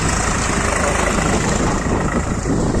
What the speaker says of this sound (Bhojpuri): ट्रैक्टर चलता,